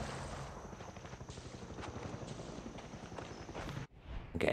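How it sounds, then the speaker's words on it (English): A helicopter from the shooter game Far Cry 6 chops steadily with a fast, even rotor beat at moderate distance, holding for several seconds before cutting off abruptly, with no talk over it. "I'm getting out of here before that chopper starts shooting at me."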